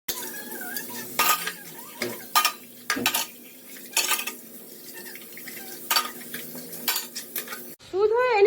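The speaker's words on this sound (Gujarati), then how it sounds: "ફટાફટ પહેલા વાસણ ઘસી નાખું" Pots, pans and cutlery being scrubbed by hand clatter and clink repeatedly in sharp, irregular bursts over a faint wash of running water, close and loud, ending in a brief rising squeak.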